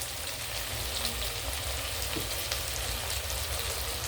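Onion masala and spices frying in oil for masoor rice with raw mango, a steady crackling sizzle running close and even throughout.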